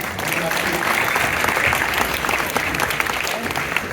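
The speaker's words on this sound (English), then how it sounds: "let's have a round of applause for Gavin." A crowd at the Bergen science fair, during a Liberty Science presentation, gives Gavin a loud, dense round of applause that stays steady and close throughout.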